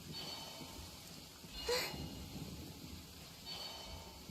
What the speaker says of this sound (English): Taking shelter and listening to the rain cleanse the earth makes me feel safe.